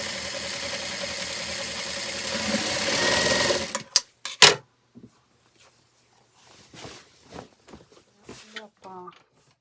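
A sewing machine stitches a simple shirt in a boutique tailoring setting, its fast steady whir running loud and close for a few seconds before cutting off, followed by a few clicks and quiet talk.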